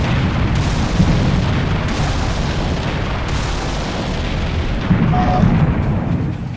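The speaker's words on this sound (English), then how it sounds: "Hit the trigger, watch the ziggurat explode, and don't die." A ziggurat blowing up in the Serious Sam HD video game, a sustained, loud rumbling roar of explosions and debris that fills the whole span with a few heavier booms.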